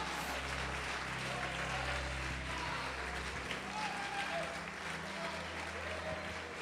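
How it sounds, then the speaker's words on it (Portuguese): A church congregation applauds in praise, a steady bed of many hands clapping at moderate distance, with voices and a low, droning musical backing underneath. "Pode aplaudir e glorificar"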